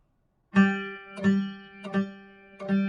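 Four plucked guitar notes on the same open string, evenly spaced, each ringing briefly before the next; played alone and close, no talking.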